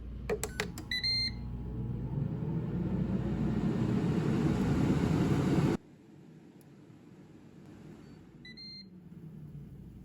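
A Ninja Foodi two-basket air fryer set to air fry at 360 degrees runs with a steady, loud fan whir, opening with a few beeps; the whir cuts off abruptly partway through, leaving quiet room tone and another short pair of beeps.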